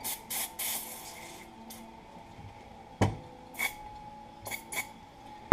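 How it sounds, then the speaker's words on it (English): Brake parts cleaner sprays onto an oil pump in several short hissing bursts, close by, with pauses and small clicks and handling noises between them. "doing some final cleaning here as well with some brake parts cleaner there"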